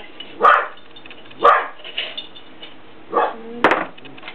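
Dogs bark indoors in a home kitchen, giving several sharp, loud barks spaced about a second apart, followed by a couple of softer yips.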